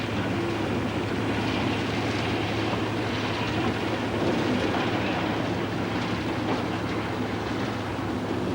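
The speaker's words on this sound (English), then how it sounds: "2 shunters tow Woodhead Class 77 Electra" Diesel shunters towing the Woodhead Class 77 Electra electric locomotive, in Brunswick green, at a heritage railway centre: a steady, fairly close rumble of rolling stock and engine drone with faint rail clatter throughout, no talking.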